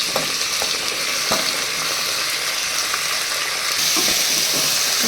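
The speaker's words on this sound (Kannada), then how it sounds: "ಚೆನ್ನಾಗಿ ಎಣ್ಣೆಯಲ್ಲಿ ಒಂದು ಐದು ನಿಮಿಷ ಚೆನ್ನಾಗಿ ಫ್ರೈ ಆಗಬೇಕಿತ್ತು" Tomato, peas and potato fry in hot oil for a potato and fenugreek bath, a loud continuous sizzle with occasional light stirring clatter, close and steady with no voices.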